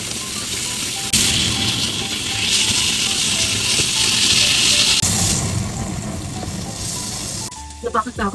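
Pork steak sizzling in a small amount of cooking oil in a pan, a steady broadband hiss that swells and fades as it fries, with brief clatter near the end.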